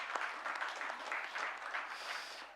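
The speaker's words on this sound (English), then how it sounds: "Bala and his team deserves a huge round of applause." A short burst of applause for Bala and his team from an audience at a talk, a moderate, fairly even patter of clapping with slight swells and no voices over it.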